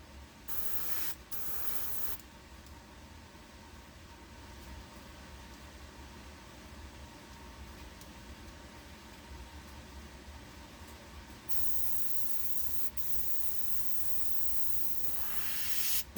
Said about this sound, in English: I'm just going to put a little bit of black paint into my airbrush.